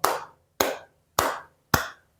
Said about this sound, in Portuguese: bater palmas pro Botafogo,